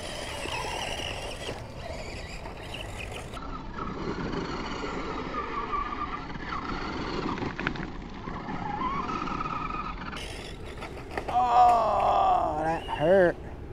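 A Tamiya Sand Scorcher RC car with street-like tires strains up a dirt hill, its small electric motor whining and surging in uneven bursts, with a sharp high-pitched rev near the end; someone talks throughout.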